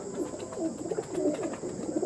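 Pigeons kept for sale coo softly and repeatedly in a low, murmuring rhythm, with a steady high hum running underneath and no talking.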